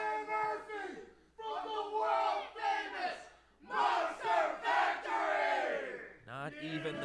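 Wrestling crowd roaring and chanting in support of Brian, rhythmic bursts of loud unified cheering with short pauses between, near and full-bodied.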